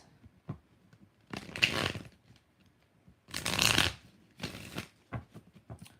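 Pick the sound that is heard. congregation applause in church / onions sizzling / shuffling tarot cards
shuffling tarot cards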